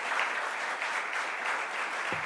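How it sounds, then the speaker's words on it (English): Steady, dense applause from an audience at a public safety announcement by New York Governor Kathy Hochul, many hands clapping together at an even loudness throughout. "Let's give them another round of applause."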